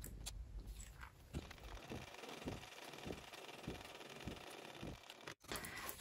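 A sewing machine bastes the long edges of a small barrel bag closed, joining lining to exterior, giving a faint, steady run of evenly spaced stitching pulses with no talking.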